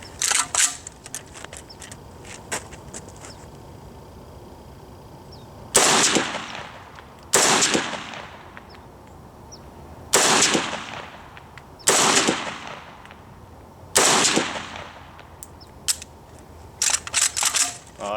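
Bursts of automatic fire from an RPK-74 light machine gun at an outdoor range, five or six loud separate strings of rapid shots spaced a couple of seconds apart over faint ambient noise.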